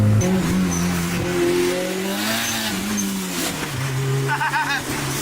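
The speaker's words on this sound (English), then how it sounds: "Dude, we are driving the Monster Tango right now." The Monster Tango, a car with its windows in, drives along the road with a steady, loud engine drone and road rumble inside the cabin, continuous throughout with slight shifts in pitch.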